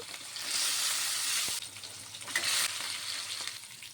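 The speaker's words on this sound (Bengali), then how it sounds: "তেলটি গরম হয়ে গেছে, আমি মাছগুলি আগে ভেজে নেব" Pieces of katla fish, rubbed with salt and turmeric, frying in hot oil in a home kitchen, a steady bright sizzle that swells and drops back in waves, close by with no voices.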